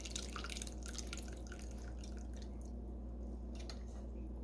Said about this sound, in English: I'm going to let that drain out.